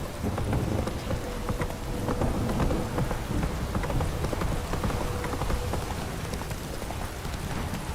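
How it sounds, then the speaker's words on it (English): Steady pouring rain in The Witcher 3, a dense, loud downpour hissing across the whole stretch, with faint hoofbeats and soft thunder rumbling underneath. "It's flowing, pouring again."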